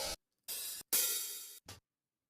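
Open hi-hat sample from a drum kit, triggered three or four times in a short sequence: bright, hissy, crisp cymbal hits with sustained washy tails and abrupt cutoffs, close and clean with silence between.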